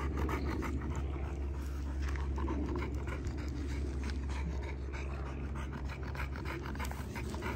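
An XL pit bull dog pants steadily and rhythmically up close, a continuous breathy huffing with no talk over it.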